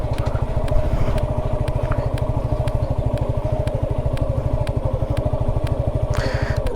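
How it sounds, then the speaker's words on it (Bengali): A motorcycle engine runs steadily close by on a slippery dirt road leading onto a brick road, with a fast, even thumping pulse that continues through the whole stretch and no voices. "বাইক বন্ধ করে দিলাম"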